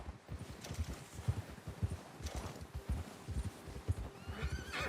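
A horse gallops in Red Dead Redemption 2, its hooves thudding in a quick, steady rhythm, close by and fairly soft, with a brief whinny near the end and light wind behind.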